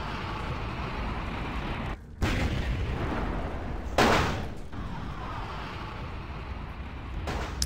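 Heavy gunfire in Vampire: The Masquerade – Bloodlines, booming blasts and a sharp burst over a dense roaring din, loud and close with brief gaps between volleys.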